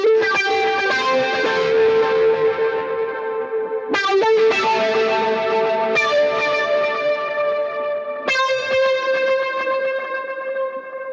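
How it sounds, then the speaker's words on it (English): Electric guitar through touch wah and rotary effects on a worship pedalboard with a ToneX One, playing a song's verse. Driven, swirling chords strike roughly every two to four seconds and ring out with echo, loud and alone. "I mentioned that I'm using a touch wah and a rotary sound"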